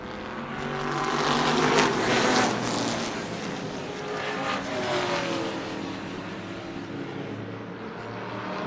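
Race cars roaring around a track on the white flag lap, a loud engine pass building then fading, with further cars droning by at a distance under faint commentary.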